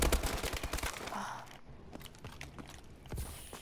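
Rapid gunfire from a weapon in a shooting video game, with a dense burst of quick shots at the start, then scattered fainter shots and clicks, close and fairly loud.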